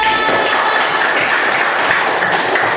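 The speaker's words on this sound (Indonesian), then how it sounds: "Tepuk tangan untuk Rehan, luar biasa." Pupils in a classroom clap for a classmate, a loud, dense burst of clapping lasting under three seconds with a bright, slightly ringing quality.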